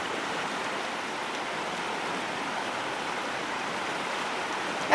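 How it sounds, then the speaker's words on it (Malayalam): A swollen, overflowing river in Makkimala, Wayanad, rushes in a constant, even wash of water noise, with no voices and a brief bump at the very end. "വെള്ളത്തിന് ശക്തി കൂടിക്കൊണ്ടിരിക്കുന്ന ഒരു കാഴ്ചയാണ് നമുക്ക് കണ്ടുകൊണ്ടിരിക്കുന്നത്"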